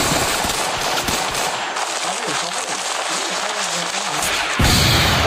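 Free Fire video game gunfire crackles in dense rapid bursts, loud and close, with a voice talking over it in the middle.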